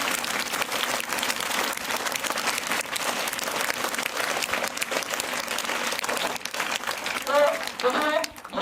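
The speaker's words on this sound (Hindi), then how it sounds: "मैं इस बच्ची के लिए आप लोग एक जोर से ताली दीजिए" An audience claps loudly and steadily for a girl's sketch of Dr APJ Abdul Kalam, sustained dense applause that thins near the end, with a voice briefly heard at the close.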